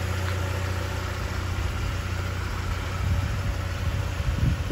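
A BMW E46 with the M43 engine idles steadily and close by, a low, even rumble with a constant hum and no talking, holding the same level throughout.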